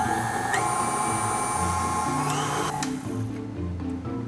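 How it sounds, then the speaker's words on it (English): Electric mixer whipping cream for a fluffernutter pie filling, a steady close whine whose pitch steps up and then drops off as the motor slows. "we're just going to let the mixer do the job"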